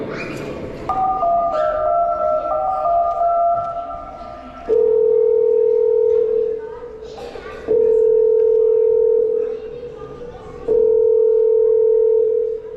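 A telephone handset sounds its tone as a call is placed at a sports club, steady loud electronic tones in repeated long pulses with short gaps, pitch stepping between beeps.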